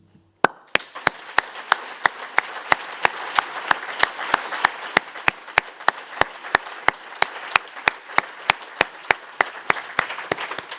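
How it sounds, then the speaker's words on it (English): At an evening PhD award ceremony, an audience applauds in a steady wash of clapping that starts abruptly, with distinct loud, rhythmic claps from one nearby person sharply punctuating the crowd's applause throughout. "And so I applaud and congratulate you for that and wish you a wonderful evening."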